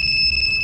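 A two-way alarm on a Suzuki Raider carburetor motorcycle sounds a sustained, loud, high-pitched electronic tone, brief and steady.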